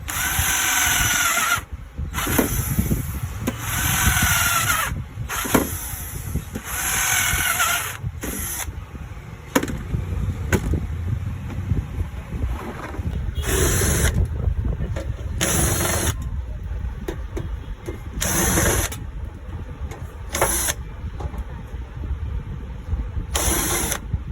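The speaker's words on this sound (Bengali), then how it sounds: "এটা কিন্তু স্ক্রু ড্রাইভার না এটা হচ্ছে কর্ডলেস ডিল" Cordless drill driving screws, loud whining bursts that start and stop repeatedly in short spurts with brief pauses between, close up and without talk.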